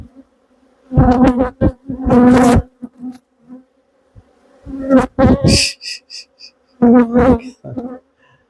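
Agitated honey bees in alarm response around an open hive box, with loud, intermittent close buzzing bursts as individual bees dart near, separated by short quiet gaps.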